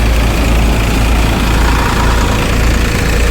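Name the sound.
N.J.T. thresher running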